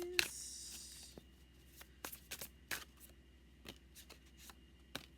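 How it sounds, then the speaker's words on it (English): Tarot cards are shuffled up close, a quick riffle at the start followed by scattered soft taps and slides of the deck in a quiet room. "All right, 2 more shuffles."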